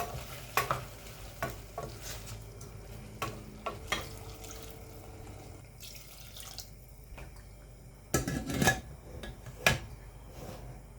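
Stirring in a pan with salt and turmeric while sautéing for sambar: intermittent scraping and clattering strokes over a low sizzle, with several sharper spoon knocks near the end.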